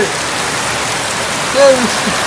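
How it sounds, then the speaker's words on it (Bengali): Heavy rain pours down in a constant dense hiss, with a brief faint voice-like sound rising above it near the end. "ওরে বাপরে বাপ, এত বৃষ্টি!"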